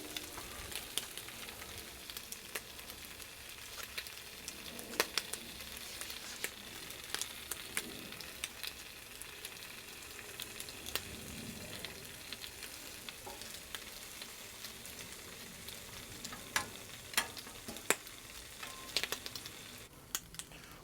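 Eggs and ham frying on a Blackstone griddle, a continuous soft sizzle with scattered crackles and pops and occasional scraping, steady and fairly quiet, with no talk.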